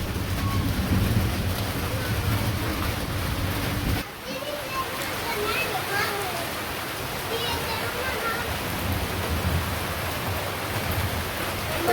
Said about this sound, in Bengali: যে বৃষ্টি কিন্তু নেমে পড়ছে ভালোই